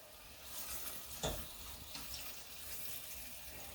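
Big, thin pork chops pan frying country style, giving a quiet, steady sizzle with one brief clatter near the start.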